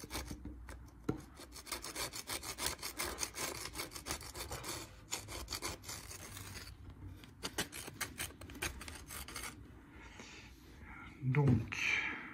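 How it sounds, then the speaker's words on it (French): Scraping a boat's strainer clean by hand during boat preparation, a steady rasping scrape repeated in quick strokes for several seconds, close and fairly loud, easing off near the end. "Je gratte là."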